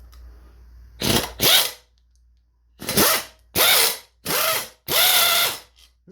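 A cordless-compressor-driven air ratchet spins a nut in five loud, close bursts of rapid clicking whir separated by short pauses, with no talking.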